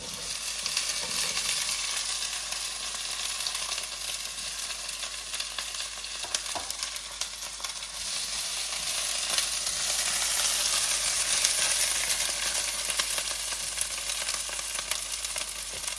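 Okra sizzles steadily in a pan of hot oil for the whole stretch, a dense, even crackle close at hand that swells slightly toward the end with a few faint stirring clicks.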